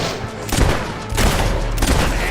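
Broadband gunfire bursts from Fable 3 on Xbox Series X, a loud shot near 0.5 s and another around 1.1 s, followed by sustained rumbling booms with further sharp reports.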